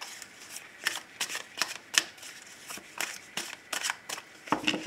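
A deck of playing cards is shuffled and cut during a tarot-style card reading, giving a run of crisp riffling bursts and soft slaps in an irregular rhythm, close and alone.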